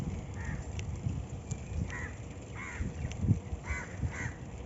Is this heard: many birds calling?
yes